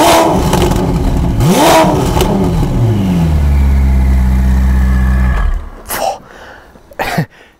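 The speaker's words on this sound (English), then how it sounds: "it's got sport catalysts in there and then a complete Novitec sport exhaust system" A Ferrari F8 with sport catalysts and a full Novitec sport exhaust, flaps open, revs loud and close, the pitch climbing then holding a sustained high rev before cutting off, followed by a couple of sharp blips.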